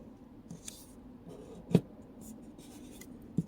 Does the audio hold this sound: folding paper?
yes